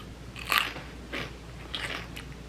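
Crisp bites into a cold, crunchy pickle: three distinct crunches spaced about half a second apart, close and fairly loud, over a low steady hum with no talking.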